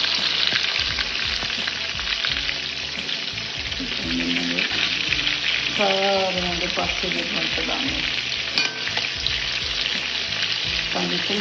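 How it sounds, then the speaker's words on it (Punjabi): Bottle gourd sabzi sizzles and fries steadily in a pan, with occasional stirring scrapes and clinks over the continuous crackle. "ਇਹਨੂੰ ਚੰਗੀ ਤਰ੍ਹਾਂ ਨਾਲ ਫਰਾਈ ਕਰ ਲੈਣਾ ਦੇਖੋ ਕਿੰਨਾ ਸੋਹਣਾ ਫਰਾਈ ਹੋਣ ਲੱਗ ਗਿਆ ਨਾ"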